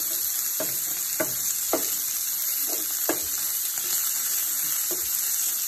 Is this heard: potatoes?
yes